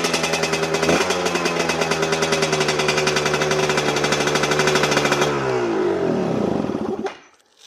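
A Chinese dirt bike engine fitted with a SmartCarb carburetor runs loud and close with a rapid, steady engine rhythm, then the revs sag and it cuts off near the end.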